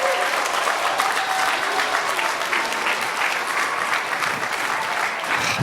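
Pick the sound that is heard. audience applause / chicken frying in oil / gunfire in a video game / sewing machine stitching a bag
audience applause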